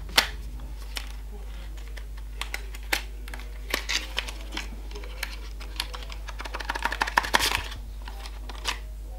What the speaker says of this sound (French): Ah, j'arrive pas à ouvrir la boîte.